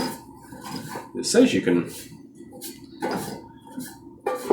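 The metal basket of an Insignia 3.2L air fryer clanks and scrapes as it is handled and set back in place, with several bright metallic knocks and rattles close by, and a voice speaking briefly.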